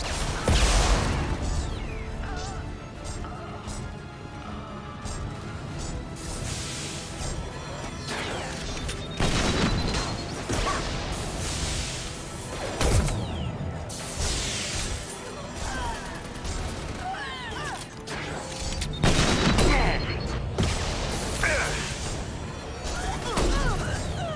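Mass Effect 2 combat gunfire, with repeated bursts of shots, crashes and impacts over a steady rumbling backdrop, rising and falling in intensity throughout.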